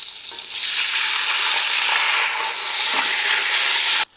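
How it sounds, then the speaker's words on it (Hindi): Loud, continuous frying hiss as a wet spice paste with a little water sizzles in the pan, with faint stirring scrapes, cutting off abruptly at the end. "थोड़ा पानी डाल के हम मसाले को भून लेंगे"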